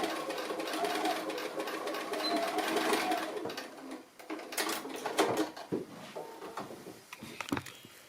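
A sewing machine stitching a fat-quarter fabric basket, a steady whirring run followed by short, uneven bursts and clicks as it stops and starts; no talking.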